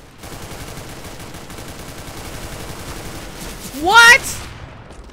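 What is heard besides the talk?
gunfire from a gun in the video game CS:GO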